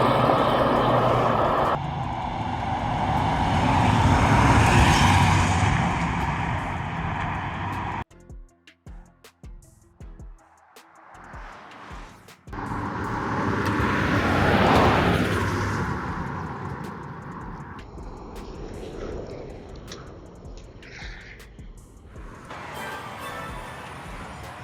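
An MG U9 and a Toyota Revo GRS pickup drag racing: loud sustained engine roar and rushing wind, a dip into quieter rattling in the middle, then another rising roar sweeping past before fading into steadier engine noise.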